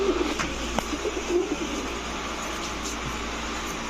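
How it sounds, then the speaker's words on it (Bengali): A male Nazra Kaldam pigeon coos in a few soft, low bursts over a constant background hum, fairly close but not loud. "এরপরে হচ্ছে আপনার নাজরা কালদম একটা নর কবুতর"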